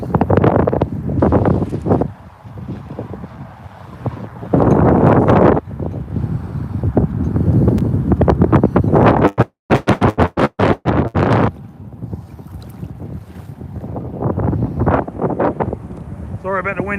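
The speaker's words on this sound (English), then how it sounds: "Sorry about the wind, everyone." Heavy wind buffeting a microphone during flooding on the Norfolk Broads, loud rumbling gusts that come and go, with a person talking intermittently beneath the roar.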